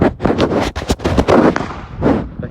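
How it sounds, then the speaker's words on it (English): Fourth of July fireworks and firecrackers crackle and pop in a rapid, irregular burst of sharp reports, loud and close, with a few louder bangs near the end. "Light some fireworks!"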